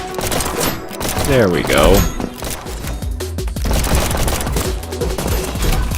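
Gunshots from the Neon White video game sound in quick bursts over dense game music and effects, loud and close throughout, with a voice speaking briefly.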